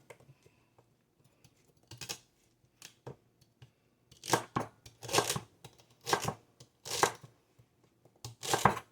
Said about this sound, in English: And now I'm going to do 3 stalks of celery